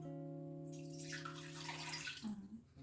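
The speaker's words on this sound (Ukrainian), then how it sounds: "У таку широку каструльку ми виливаємо воду." Water poured into a wide saucepan for a marinade, a broad rushing splash beginning under a low hum and swelling for about two seconds before tapering off, with no voices.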